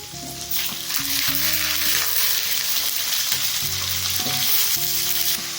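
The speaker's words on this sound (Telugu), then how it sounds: "ఉల్లిపాయలు కొంచెం వేడితేనే ఇప్పుడు మనము వంకాయలు వేసుకుందాం." Eggplant pieces fry in a pan with onions for a Telugu chickpea and eggplant kurma, a steady close sizzle with stirring scrapes and no talking.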